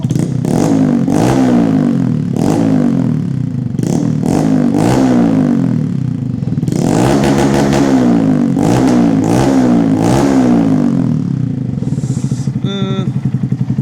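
Honda Monkey motorcycle with a cheap AliExpress exhaust, baffle removed, revved repeatedly, loud and close, with throaty blips rising and falling and a higher whine near the end.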